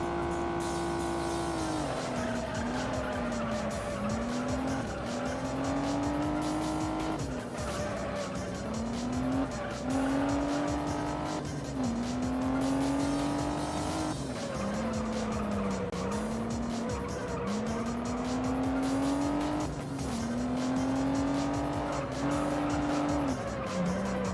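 Race car engine from the Juiced video game, revving up and down through repeated gear shifts over a lap, with tire squeals and skids, loud and close, continuous throughout.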